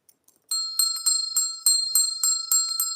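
A bright metal bell rings in clear, evenly spaced strikes, each ring sustaining and overlapping the next, loud and close with no talk.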